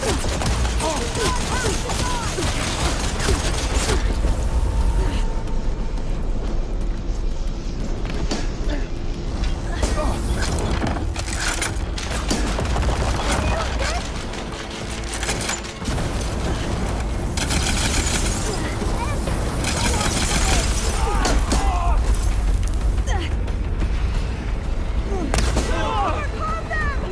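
Loud, continuous combat din from Horizon Forbidden West: sustained gunfire and explosive booms fill the whole span, with voices shouting over the battle.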